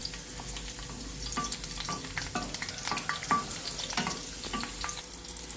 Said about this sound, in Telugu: నేను మూడు పచ్చిమిరపకాయలు వేశాను వీటిని కొద్దిగా వేగనంటాను